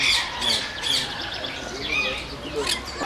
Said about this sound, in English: It's the rose-ringed parakeet.